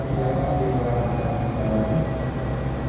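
Inside the Parahyangan passenger train number 131 as it pulls into Purwakarta station, a loud steady low rumble of wheels and carriage noise continues without pause, with no voices heard.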